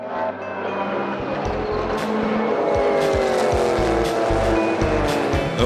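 Group C race car that finished third at Le Mans in 1982, at the Spa-Classic 2014 meeting, roaring loudly and continuously at close range with a rising engine note and sharp gear changes, no talk.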